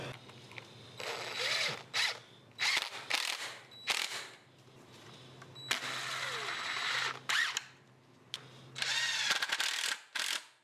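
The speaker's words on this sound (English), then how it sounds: "we're just gonna screw these together" A power drill drives screws to join wooden frames, with repeated whirring bursts of a few seconds each, separated by short pauses and clicks, close and loud with no talking.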